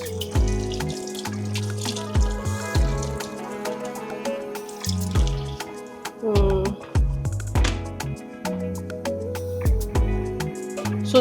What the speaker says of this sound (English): I'm going to add some water to cover